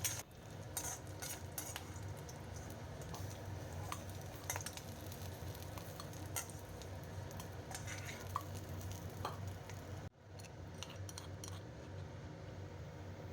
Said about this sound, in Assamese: এয়া আমাৰ শুকান মাছখিনি ভাজি হৈ গৈছে